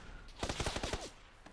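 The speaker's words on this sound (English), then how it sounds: "Odds fired six shots straight over his head" A rapid string of six or seven gunshots in PUBG on Xbox One cracks out as one quick burst, slightly distant and fading into quiet.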